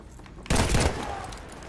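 Rifle gunfire in the Battlefield V video game: a sudden loud burst of shots strikes after a quiet moment, then trails off into a rumbling echo, with no voices over it.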